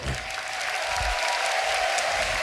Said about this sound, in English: Can we get one more round of applause for Saijo right here, taking third place home?